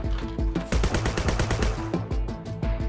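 Rapid bursts of gunfire from a gun in the first-person ninja ragdoll game Sword With Sauce, loud close shots in quick succession with a brief lull midway, no talking over it.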